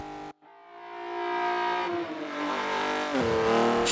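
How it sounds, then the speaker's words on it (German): A car's tires squeal through a corner as the engine revs hard, a sustained loud screech with rising pitch after a brief cut, close and without talk. "Mit quietschenden Reifen in die Follow-Through."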